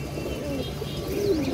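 Indian high flyer pigeons coo softly nearby, a few low rolling calls over steady background noise, with no talking.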